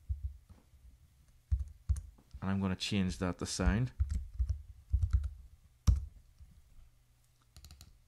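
Someone talks while sharp computer mouse double-clicks sound at scattered intervals, a few of them landing close together.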